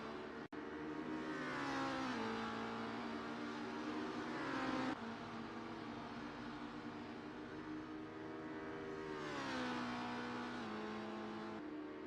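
Race car engines in a sim racing video game touring car round, a continuous loud high-revving drone that rises and falls through gear changes across the whole stretch, no talk.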